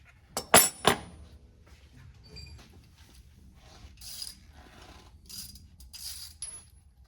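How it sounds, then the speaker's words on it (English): Metallic clinks and rattling from a ratchet with a deep socket while tightening a shock mount on a 2020 Yamaha YXZ long travel setup: two sharp clacks early, then sparse faint ticking and scraping in a quiet space. "I'm using a deep socket on each side up here."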